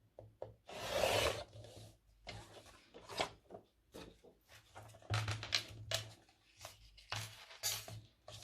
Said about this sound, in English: get my cutting machine and then just trim round